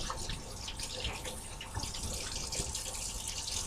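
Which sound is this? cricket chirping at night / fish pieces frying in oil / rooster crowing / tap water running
tap water running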